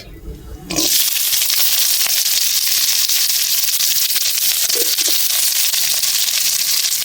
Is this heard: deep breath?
no